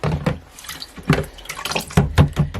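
Spinach leaves being washed by hand in plenty of water in a sink for afang soup, with a running tap and repeated close splashes and sloshes as the leaves are swished about.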